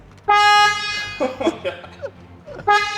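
A BMW M4's horn blares in two long, deep, brassy honks, with a gap of muffled noise between them; the tone is low and droning like a foghorn.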